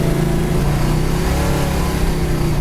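A 1970 Plymouth Satellite Road Runner tribute muscle car engine revs loud and close, a dense, steady low rumble that holds throughout with no one talking.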